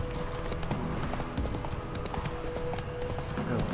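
Roach the horse galloping in The Witcher 3: Wild Hunt, with a fast, continuous rhythm of hoofbeats filling the whole stretch, close and steady, with no talking.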